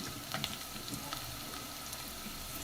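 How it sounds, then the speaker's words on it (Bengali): Onion and garlic fry in hot oil with three bay leaves for achari dal, a steady close sizzle with small crackles and occasional stirring clicks, no voices. "আর একটু ভাজবো।"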